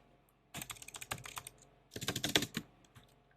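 Fingers tapping on a computer keyboard, entering a run of spaces and the enter key, in two quick bursts of clattering keystrokes separated by a short pause, close and moderately quiet with no talking.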